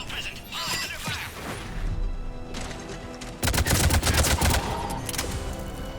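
A firefight in the video game Mass Effect 3 produces rapid bursts of gunfire with mechanical clatter and impacts, growing denser and louder partway through, alongside faint game dialogue.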